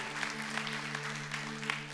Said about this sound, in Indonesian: Berikan tepuk tangan buat Pastor Monty.